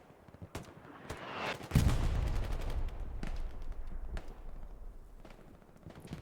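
Grenades bursting in a World War II shooter battle in the Hurtgen Forest, with one heavy close boom followed by a rumbling tail, scattered gunshots and sharp cracks around it.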